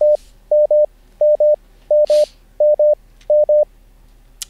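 Morse code letter M keyed as CW sidetone on an amateur radio: two long dashes of a steady pure tone, the pair repeated about six times in an even rhythm, clean and close, with faint static bursts between.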